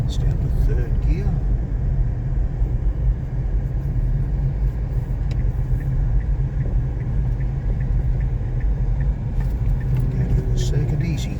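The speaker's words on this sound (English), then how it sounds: "that's with the turbo boosting away. It's down to 3rd gear." A Dacia Duster 4x4 with a 1.2 turbo petrol engine and manual gearbox pulling in third gear, its steady engine drone and road rumble continuous and loud throughout the whole stretch.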